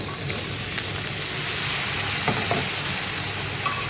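Beans, potato and eggplant go into sizzling dried fish curry with vegetables. The pan gives a loud, continuous frying hiss, with a few faint clatters of stirring under it.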